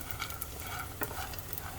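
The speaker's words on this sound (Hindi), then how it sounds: "ये देखिए, इसे लो फ्लेम पर इस तरह से घुमाते रहना है" Edible gum (gond) frying in a pan on a low flame while being stirred, giving a steady, soft sizzle with light scraping and small pops, alone without talk.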